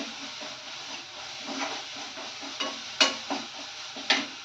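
Spoon stirring turmeric into an aloo paratha potato filling, soft scraping and swishing strokes with a few sharper taps against the bowl, close but quiet, no speech.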